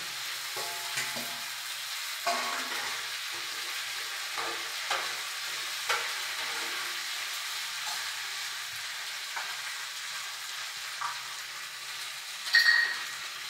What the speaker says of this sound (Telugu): ఇప్పుడు ఈ మిగిలిన దాంట్లో బెండకాయ వేస్తాము.